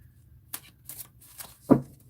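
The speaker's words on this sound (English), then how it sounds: "Actually, I shuffle a couple of different ways." A deck of oracle cards is shuffled in several quick, crisp riffling bursts, ending in a sharper slap as the cards settle, with a faint hum underneath.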